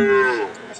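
A Friesian dairy cow at a livestock market gives a single loud, close moo that is drawn out and tonal before tapering off within a second.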